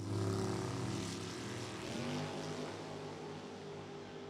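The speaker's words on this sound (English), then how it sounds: "You hear those throttles on and off as they play the game at the finish line" Drag racing cars at the finish line of a dragway, throttles blipping on and off, a steady loud engine drone with shifting harmonic tones that swell and fade over several seconds.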